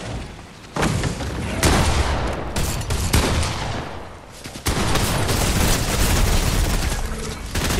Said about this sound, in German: Wir schießen beide.